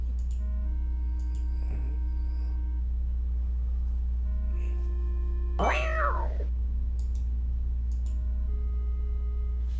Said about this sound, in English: The cat struggles in vain inside the bag.